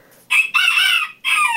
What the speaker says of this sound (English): See, look. The chicken.